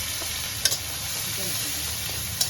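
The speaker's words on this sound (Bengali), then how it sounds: "এবার এটা কিন্তু ভেজে নেব সামান্য পেঁয়াজ সামান্য পেঁয়াজ বাটা দিয়ে দেবো একটু হলুদ দিয়ে দেবো" Onion paste and turmeric fry in hot oil with a steady, close hiss, broken by two brief sharp clinks of stirring.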